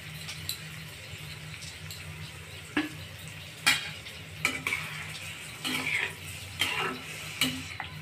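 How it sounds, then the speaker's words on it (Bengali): Egg and potato curry sizzles in a pan as a little water goes in for the gravy, with steady frying hiss, low hum, and several short clinks and stirring scrapes of a utensil against the pan. "আর ঝোলের জন্য দিব সামান্য একটু জল।"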